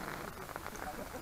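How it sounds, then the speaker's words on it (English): Heavy rain pours during a non-league football match, giving a soft, steady patter and hiss with a few faint, brief sounds rising above it. "very heavy rain"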